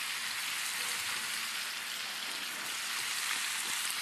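Chicken pieces, seasoned side down in a pan over medium-high heat: a loud, even, hissing sizzle that holds steady throughout with no talking.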